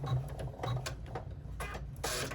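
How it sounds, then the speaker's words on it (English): A sewing machine stitches the top of a card slot pocket on a wallet, a short close run of rapid needle strokes with a steady mechanical buzz. "now we're gonna get the top of the slot pocket stitched"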